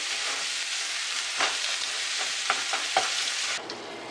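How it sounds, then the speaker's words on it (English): One pound of hamburger meat browning in a skillet gives a loud, steady close sizzle with light scraping stirs, the hiss easing near the end, no talking. "in the same skillet, we're going to brown some hamburger."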